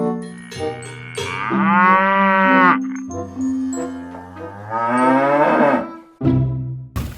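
A yellow toy cow gives a series of loud, drawn-out electronic moos, with several long tonal calls in a row and a short clicking sound near the end. No one speaks.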